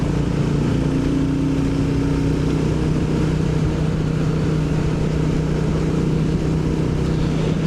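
A Royal Enfield Bullet 350 motorcycle being ridden along on a hot summer day, its engine giving a steady low drone with wind rush layered over it, loud and continuous.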